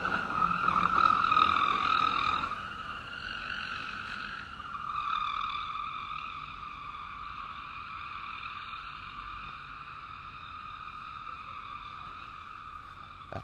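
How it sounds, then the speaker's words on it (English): A wrecked car driving and swerving down a road, heard as a sustained harsh tonal squeal or whine that starts louder and settles into a steady drone, with no talk. "There's like a wrecked car driving down the road."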